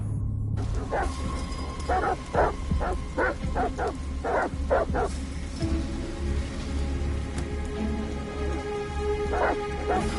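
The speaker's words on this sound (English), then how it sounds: "Goddamn dogs. What the fuck are they barking at?" Several dogs barking in the video game Detroit Become Human: a quick run of sharp, loud barks in the first half, then a couple of more distant barks over a steady rain-like outdoor ambience.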